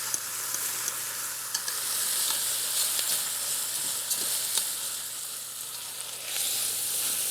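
Pork sirloin and onions sizzle steadily in a hot pan, a close, dense hiss with light crackle running unbroken, with no talk.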